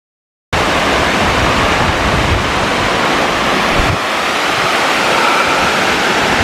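A mountain waterfall near the Tignes glacier in Savoie rushes as a loud, continuous broadband roar, close and unbroken, with no voices.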